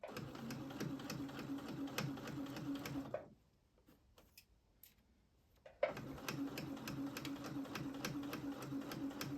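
A sewing machine stitches fabric for a Bridgerton-style costume dress, a rapid steady mechanical patter that runs continuously, cuts out for a few seconds of near silence, then resumes at the same brisk pace.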